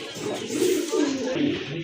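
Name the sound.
pigeons cooing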